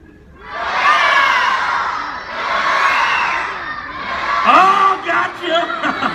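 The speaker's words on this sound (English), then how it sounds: "you're going to yell, row, the first half of the word as loud as you can" A room full of children yells a single syllable together at a presentation, a loud sustained crowd shout followed by a second burst, then scattered cheers and whoops trailing off.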